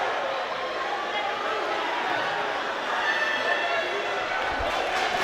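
Crowd murmur fills an arena at a FIBA AfroBasket game between Kenya and Burundi after a missed dunk, a steady broad buzz with a commentator talking over it.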